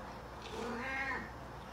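A single soft cat meow, rising and falling over about half a second, heard faintly close by against a quiet background.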